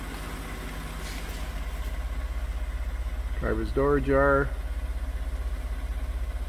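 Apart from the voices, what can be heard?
2012 Ford F150 3.5 engine idling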